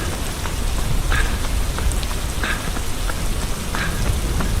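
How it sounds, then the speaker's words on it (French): Heavy rain pouring down during a marathon training run, a dense, loud, constant hiss of drops hitting the ground with no voices. "Bon, il pleut à verse."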